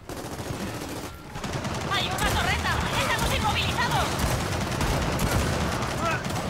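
Rapid automatic turret fire in Gears of War 4 rattles on continuously and loudly, with other game sounds mixed in and someone speaking Spanish over the barrage.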